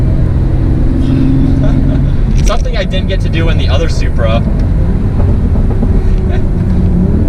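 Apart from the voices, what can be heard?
sports car driving fast through turn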